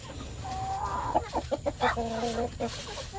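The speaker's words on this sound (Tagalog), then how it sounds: "Tsaka dalawang tandang." Chickens cluck and squawk in short bursts nearby, with Rhode Island Red roosters among them, over a low steady background hum.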